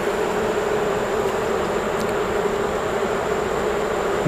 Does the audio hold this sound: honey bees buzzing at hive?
yes